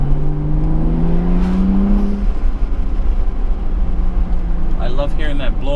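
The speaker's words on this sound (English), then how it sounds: "I love hearing that blow-up valve." A modified BMW 435i's engine revs up with a rising whine, drops off, then gives a brief sharp hiss from its blow-off valve near the end, all heard from inside the car.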